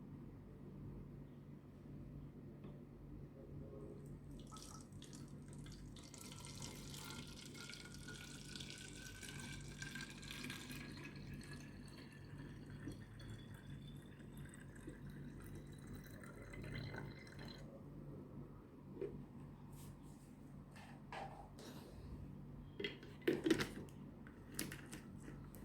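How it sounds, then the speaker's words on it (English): Soaked liquid, water left to steep for a day, is poured into a spray bottle, giving a soft, trickling run of water that fades to faint drips near the end in a quiet room. "So now I'm going to be turning it into my spray bottle."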